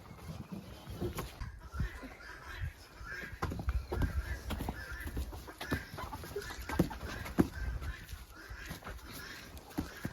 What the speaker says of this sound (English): You can probably hear our guinea hens in the background.